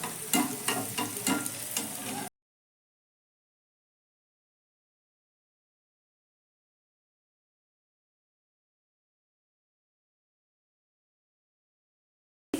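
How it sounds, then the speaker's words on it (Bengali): Dough balls deep-frying in hot oil, a busy crackling sizzle with stirring that lasts about two seconds and then cuts to silence. "উপর থেকে একটু তেল ছিটিয়ে দিচ্ছি যাতে উপরের দিকটাও সুন্দর করে ভাজা হয়"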